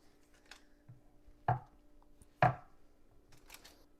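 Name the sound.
cutting out frozen almond flour cookie dough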